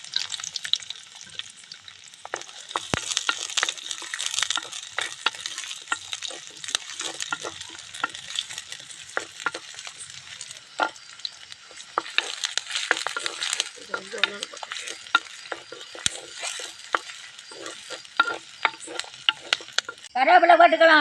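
Small onions (shallots) frying in hot oil for pirandai thuvaiyal, a continuous close crackling sizzle with scattered pops and spatula scrapes, ending in a louder clatter.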